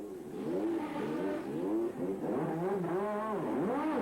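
Ayrton Senna's Lotus Formula One car at its pit stop during the 1987 Monaco Grand Prix, its engine revving up and down in repeated sweeping whines, close and prominent.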